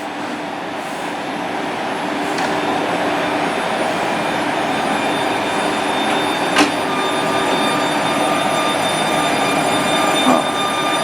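Train pulling into a Polish railway station in the evening, a loud steady rumble of rail wagons close by with a brief squeal near the middle, no talk.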